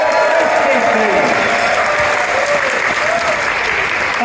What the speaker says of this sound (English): We have a fantastic round of applause.